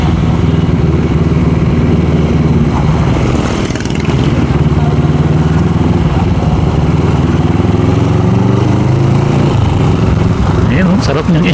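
A CFMoto 400NK motorcycle engine, freshly oil-changed, runs steadily and loudly throughout, a constant low rumble with slight shifts in pitch, close by.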